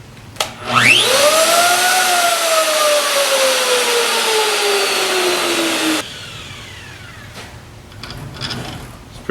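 A router on a planer jig flattening a large wooden slab spins up with a rising whine and then holds a loud, steady roaring whir for several seconds. It then cuts off, leaving quieter shop clatter behind.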